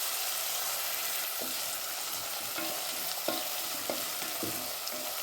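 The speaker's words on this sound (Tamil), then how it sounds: "இதுலேயே நல்லா ஒரு 5 நிமிஷம் நல்லா வதக்கிக்கலாம்." Mochai beans and potato masala with curry leaves sautéing in a pan, a steady sizzle running throughout with a few scraping stirs of a spoon, close and alone with no talk.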